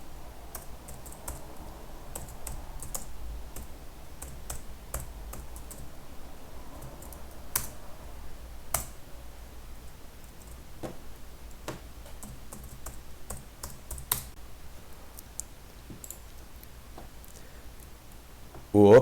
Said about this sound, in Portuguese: Vamos digitar aqui